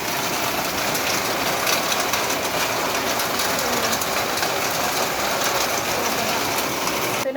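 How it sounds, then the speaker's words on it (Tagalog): Heavy rain pours down on a flooding street, making a dense, loud hiss with a low rumbling roar underneath. It stays steady and close throughout, with no pauses. "Lakas ng ulan. Bumabaha na sa kalsada, sa daan."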